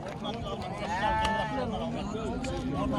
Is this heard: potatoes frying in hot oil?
no